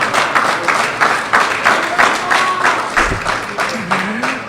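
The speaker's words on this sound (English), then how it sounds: "let's give him one more round of applause." A crowd gives a speaker's honoree another round of applause at a gathering. The clapping comes in pulsing, roughly rhythmic surges, fairly loud and close, with faint voices mixed in.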